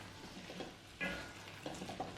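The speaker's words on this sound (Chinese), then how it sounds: "使每块鸡腿都能均匀的沾上糖色。 注意这里还是小火翻炒。" Caramel-coated chicken legs are stir-fried in a wok over low heat, giving a quiet, steady sizzle with a few soft scraping stirs and one brighter clink near the middle.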